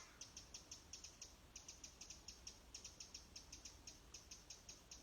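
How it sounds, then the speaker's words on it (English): Faint, rapid chattering magpie calls repeat in short regular bursts throughout, high and scratchy over a quiet outdoor background. "I'm listening to the bird chattering away. I think it's a magpie."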